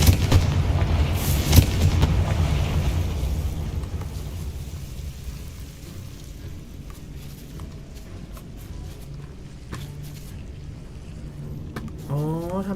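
Fiery Confringo spell blasts in the Hogwarts Legacy video game burst out as booming explosive hits, several heavy impacts early, then fading into a rumbling tail with sharper cracks later on.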